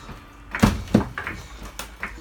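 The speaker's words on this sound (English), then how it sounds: "And then I'm just gonna pump it." A hydraulic jack is pumped under a bus floor during a bus home build to lift the flooring, giving a few close, heavy clunking strokes at an uneven pace.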